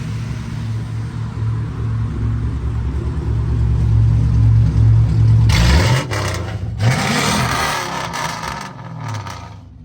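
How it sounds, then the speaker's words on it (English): Old Lexus fitted with a Chevy engine and a straight pipe with no muffler, idling with a heavy low rumble before the throttle is blipped into a loud, raspy rev that drops back down. "can you rev it real quick?"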